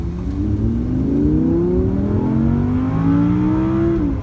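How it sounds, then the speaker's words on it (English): An Audi R8 V10 pulls hard on a bumpy road, its engine note climbing steadily in rising harmonic sweeps. The sound is loud, close and continuous, heard from inside the car with no talking. "Do another little acceleration."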